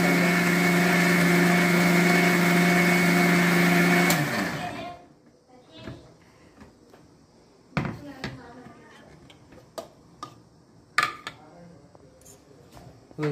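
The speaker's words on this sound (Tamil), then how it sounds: "நல்லா அரைச்சிட்டு இருக்காங்க" A kitchen mixer grinder whirs loudly while grinding rice for rice upma. The motor winds down and stops about four seconds in, and quieter clatter and handling noises follow.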